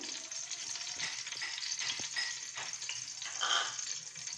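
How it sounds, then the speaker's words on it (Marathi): Homemade ghee sizzling in a pan over heat. A steady close frying hiss holds throughout with small crackles and a few soft clinks, and no talking. "आपण आता पहिलं तूप घालून घेणार आहोत।"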